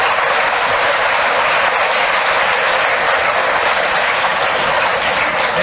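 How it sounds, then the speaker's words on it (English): Studio audience at the panel game Just A Minute, with Kenneth Williams fans in the front row cheering and clapping in a loud, steady, dense roar that carries unbroken to the end. "The Kenneth Williams fan club in the front row here are cheering like mad"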